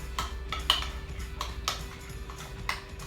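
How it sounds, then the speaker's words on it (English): A spoon mixing ground spices into yogurt in a bowl for tandoori cauliflower, heard as soft, irregular clinks and scrapes over a steady low hum, close but quiet. "Take a teaspoon or tablespoon and give that a nice mix."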